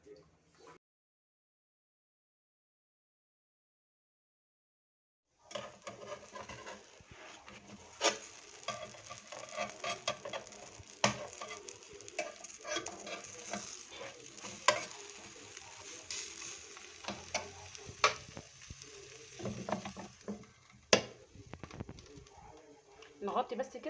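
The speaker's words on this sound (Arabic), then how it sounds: "هناخده نحمره على البوتاجاز في طاسه جريل" Hawawshi in Egyptian baladi bread fries in a grill pan on a gas stove, a steady close sizzle with scattered crackles and spatula scrapes, starting after a few seconds of silence, while a voice talks intermittently.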